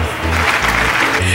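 Group of dance and vocal academy students at a summer camp in Mungyeong clapping together, a short dense burst of applause, close and loud over a low hum.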